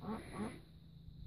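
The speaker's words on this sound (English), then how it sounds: "listening to the birds." Birds call outdoors near a gold prospecting site in Victoria, two short nasal quacking calls close together, like a duck, followed by quiet outdoor background.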